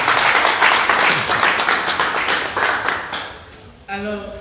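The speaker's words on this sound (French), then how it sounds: "N'applaudissez pas pour les félicitations alors." Hall audience clapping in a sustained, rhythmic burst that fades out after about three seconds, followed by a voice speaking; talk runs alongside the applause.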